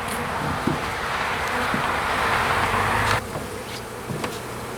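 Honeybees buzz steadily around an open hive during an inspection, a continuous droning hum with individual bees passing close, plus faint rustling and a brief shift in the swarm's intensity.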